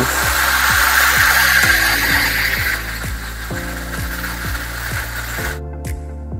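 Gustino Essenza KS 530 espresso machine brewing while its steam wand runs: a rhythmic pump pulsing about twice a second under a loud hiss of steam that drops partway through, then everything cuts off.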